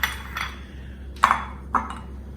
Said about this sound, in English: With your spatula, take it out.